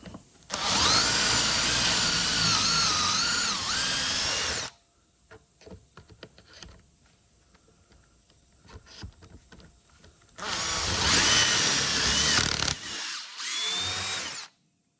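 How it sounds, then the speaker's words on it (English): A power drill runs loud and close for several seconds, boring a pocket hole into wood, pauses with light clatter, then bores again in a second long burst. "I'm going to drill right in, and it's going to make a pocket hole"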